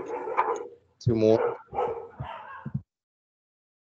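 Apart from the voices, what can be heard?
dog barking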